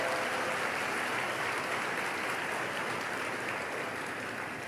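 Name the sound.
audience applause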